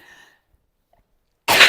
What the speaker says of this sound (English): I've still got this bloody cough